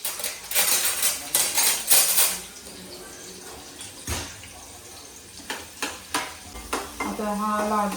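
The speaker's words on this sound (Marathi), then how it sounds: "आणि आता मी टाकते 1 कांदा बारीक चिरलेला" Finely chopped onion added to hot oil with a pinch of asafoetida, bursts of stirring and clattering utensil against the pan over a steady sizzle, then sparser scrapes, close and loud, ending in a brief whine.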